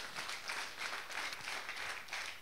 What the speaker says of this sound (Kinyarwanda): Komera Imana amashyi niba ntacyo bikutwara